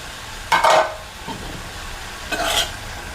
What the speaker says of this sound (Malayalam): വീണ്ടും നന്നായി ഇളക്കി യോജിപ്പിക്കാം.